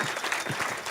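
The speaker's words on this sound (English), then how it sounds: "Oh, we can applaud him again." A crowd claps together at a 50th anniversary banquet dinner in the Hay Barn at UC Santa Cruz, a short burst of dense, fairly loud applause with no voices heard over it.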